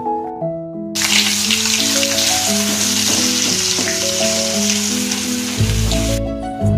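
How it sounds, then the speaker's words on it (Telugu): Ginger garlic paste deep frying in oil in a kadai over a medium flame for mutton pickle, giving a loud, steady sizzle that starts abruptly and runs throughout, with tonal music playing underneath. "అదే కడాయిలోకి 1 స్పూను అల్లం వెల్లుల్లి పేస్ట్ వేసుకొని డీప్ ఫ్రై చేసుకోవాలి"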